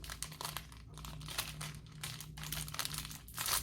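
Plastic packaging around a cotton item is opened, giving loud continuous crinkling and rustling close up for a few seconds, with no talk.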